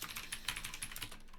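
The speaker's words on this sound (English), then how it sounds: "I'm just going to write it here" Quiet, rapid clicking of computer keyboard keys while typing code, a steady patter of keystrokes with no speech.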